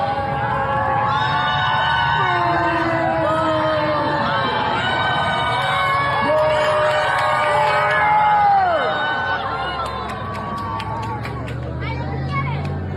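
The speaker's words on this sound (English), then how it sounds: "there's a group of people like outside across the road because they have to be, and you can hear them yelling, "Tell the truth."" A crowd of people gathered outside across a road, yelling and chanting together in a loud, continuous roar of voices with rising shouts and whoops throughout.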